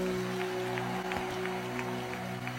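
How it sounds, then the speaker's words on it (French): An audience at a crusade gathering applauds the singers and choir, a steady spread of clapping over a constant hum from the sound system. "Applaudissez pour les chantres, pour la chorale."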